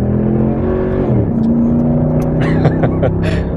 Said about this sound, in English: there was the first 0-60, which was pretty anticlimactic